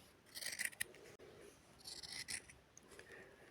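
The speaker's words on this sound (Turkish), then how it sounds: "Kumaşımı kesiyorum." Scissors cutting through layered fabric on a sewing table, two close bursts of crisp snipping and slicing strokes separated by a pause, fairly quiet, no talking.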